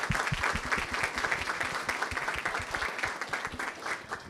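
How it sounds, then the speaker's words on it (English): An audience at a district bond community meeting claps, with individual hand claps distinct and fairly close in a brisk, steady patter throughout. "Let's give her a round of applause."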